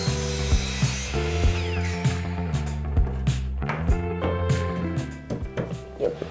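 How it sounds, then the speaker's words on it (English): A saw cuts through wooden bathroom trim in quick, rhythmic back-and-forth strokes, each stroke giving a close, rasping rub. "I'm gonna have to cut that trim in the middle and splice it together."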